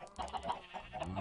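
Chickens cluck in the Minecraft video game, a few short repeated clucks in a quick uneven rhythm, close and moderately loud with no talking.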